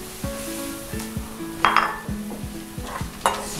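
Oil hisses steadily in a wok over a wood fire as braised tofu cooks, while a metal spatula repeatedly scrapes and clanks against the pan, with a few sharp clinks standing out near the cook.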